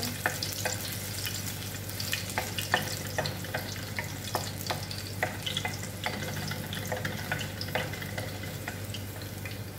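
Garlic sizzles in plenty of cooking oil for ginataang ampalaya with dried shrimps, a steady close frying hiss with scattered pops and crackles and a few stirring scrapes, without talking.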